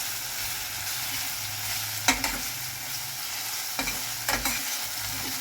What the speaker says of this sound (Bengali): মশলাটা নাড়িয়ে যাবে, কারণ নইলে ধরে যাবে কড়া।